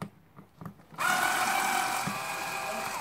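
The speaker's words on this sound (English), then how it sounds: "Back to power drilling." A few soft knocks and taps, then a power drill starts up on screws of a DVD player and whirs loudly and steadily at close range for the remaining couple of seconds.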